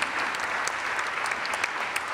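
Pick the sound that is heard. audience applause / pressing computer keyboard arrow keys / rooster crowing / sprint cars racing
audience applause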